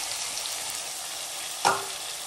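Tomato and radish sizzle in oil in a clay pot, a steady close frying crackle with one short sharp clink of a utensil against the pot near the end.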